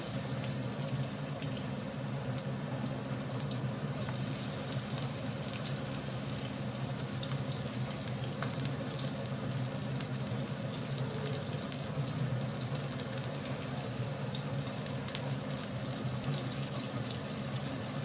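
Chopped onion frying in white cooking oil, a continuous even sizzle and crackle held at a moderate level throughout, no talking.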